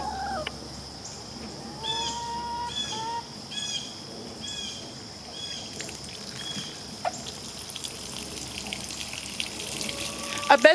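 Water pouring and trickling out of a backyard rain barrel being drained after heavy rainfall, a steady splashing flow heard outdoors with birds chirping in the background and no talking.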